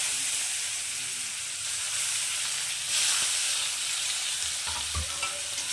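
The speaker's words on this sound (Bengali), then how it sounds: "পেঁয়াজগুলো আমি একটু মানে ভেজে নেব একটু লাল লাল করে ভেজে নেব" Sliced onions fry in hot oil in a pan, a steady loud sizzle close by with a few stirring knocks near the end and no talking.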